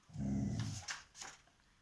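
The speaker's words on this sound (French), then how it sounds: "Le chien, on se tait." A dog growls low and close for about half a second, followed by two brief huffing, whimpering sounds, fairly quiet in an indoor setting.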